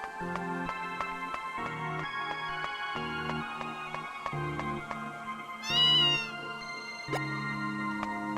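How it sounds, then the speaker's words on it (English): A cat in the PS2 video game Musashi: Samurai Legend lets out a short, clear meow, heard up close over a looping melodic game music background. "Kitty says hi."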